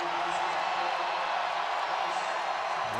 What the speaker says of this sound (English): Tar Heels fans giving him a round of applause